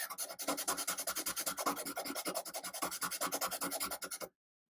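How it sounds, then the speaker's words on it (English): A pastel pencil rotated against sandpaper grit to wear down its point, making a close, quiet, rhythmic rasping of quick repeated strokes that runs for about four seconds and then stops abruptly into silence. "I'm going to rotate the pencil along the sandpaper, the grit of the sandpaper, and just kind of wear off some of the extra around the point"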